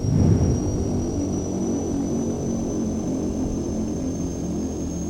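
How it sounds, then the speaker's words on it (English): A propeller aircraft engine in Microsoft Flight Simulator X starts and runs steadily with a droning roar and a thin high whine above it, constant and close throughout. "the propeller is starting. I'll let you guys just listen."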